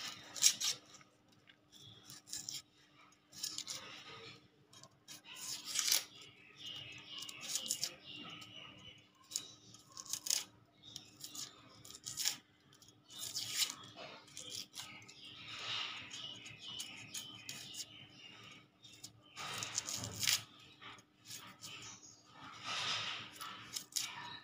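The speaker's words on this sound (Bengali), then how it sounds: "আমি পেঁয়াজটা কেটে নেব" A knife slices through an onion on a board: scattered crisp cuts and rubbing scrapes come close but quiet, in irregular bursts, with faint background hum.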